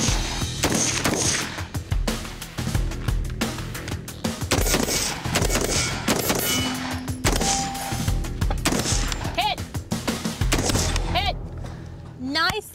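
Rifle shots at a shooting range ring out as sharp, loud transient cracks scattered through the clip, mixed with steady background noise, with people talking and exclaiming throughout.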